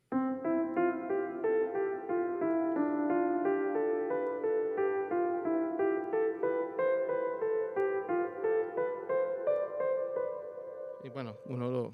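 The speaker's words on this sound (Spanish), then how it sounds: "que toda persona que ha estudiado piano lo conoce y lo voy a tocar y suena así" Piano finger exercise played as a steady run of repeated patterned notes, moving evenly up and down at moderate tempo for about eleven seconds, close and unaccompanied, ending with a brief bump.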